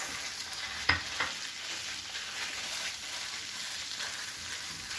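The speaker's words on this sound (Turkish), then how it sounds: "soğanlarımızla birlikte kıymamız iyice kavrulsun" Minced meat and onions frying together in a pan, a steady broadband sizzle held throughout at moderate level, with a couple of brief sharp clicks from stirring near the start.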